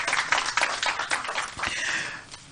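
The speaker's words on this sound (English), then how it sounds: "Round of applause for him." A round of applause at a Save Ghana Now press conference in Ghana, a crowd of hands clapping steadily and fairly close, thinning out toward the end.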